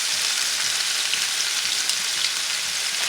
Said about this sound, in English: So again, I'm just browning this.